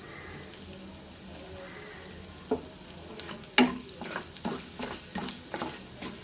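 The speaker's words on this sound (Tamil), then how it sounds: "மூணு காஞ்ச மிளகா இதை தாளிச்சிக்கலாம் பெருங்காயத்தூள் போட்டுக்கலாம்" Dried red chillies and asafoetida tempering in hot oil, a soft steady sizzle with scattered crackles and pops, close and fairly quiet, no talk.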